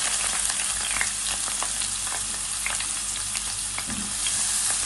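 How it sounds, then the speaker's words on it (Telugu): Green chilies and onions fry in hot oil for a prawn and okra stew, giving a continuous close sizzle with light stirring scrapes and clicks scattered through it. "ఆయిల్లో పచ్చిమిర్చి ఉల్లిపాయలు వేసుకోవాలి"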